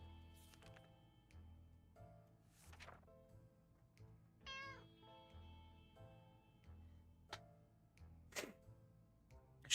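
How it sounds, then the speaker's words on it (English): A cat meows several times in a video game, short tonal cries spaced across the scene over a low looping game soundtrack, with one longer wavering call in the middle. "Oh, there's another cat."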